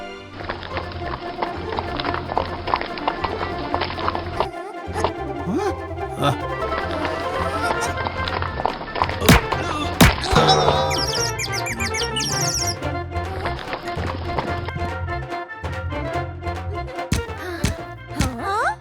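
Cartoon donkey running with quick hoof clip-clops over a busy animated score, birdlike chirps and sound effects, loud and continuous throughout.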